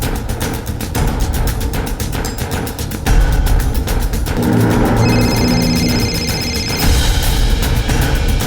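A phone rings with a repeating electronic tone, loud and close, amid other busy noise and music.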